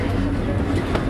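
A train runs along the rails with a close, steady low rumble and a faint rhythmic clatter throughout the short moment.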